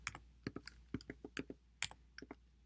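Fingers tap a computer keyboard in a quiet room: a quick irregular run of about a dozen light, close clicks over a couple of seconds, with no talking.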